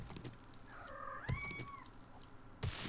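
A pet cat named Simon gives a single drawn-out meow at a distance, faint beneath quiet room noise with a couple of soft knocks.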